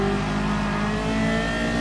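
Alfa Romeo 4C sports car in the racing game GT Sport, its engine droning steadily at sustained revs with a loud, close, buzzy tone throughout.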